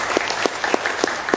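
Applause from an audience at a testimonial gathering, a steady, even clapping crowd with distinct rhythmic louder claps from someone close by throughout the brief stretch.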